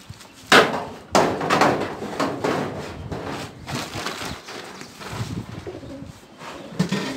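Pigeons coo in repeated soft, throaty phrases, with a few sharp knocks and bumps mixed in nearby.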